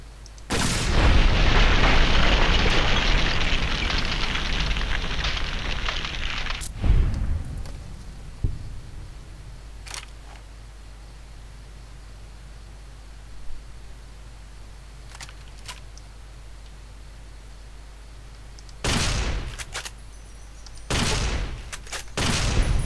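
Gunfire in Fallout: Honest Hearts: a loud sustained burst of game weapon fire with booming blasts, then a quieter stretch of scattered impacts before more heavy shots near the end.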